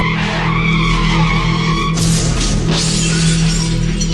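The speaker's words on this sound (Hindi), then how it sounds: "गाड़ी के सामने कुछ आने की वजह से गाड़ी अनियंत्रित होकर सामने लगे पेड़ से जा टकराई" A car racing along a road in a remote part of Himachal skids out of control before crashing into a tree: a loud, sustained tire skid with engine roar, and a sharp burst of impact noise about halfway through.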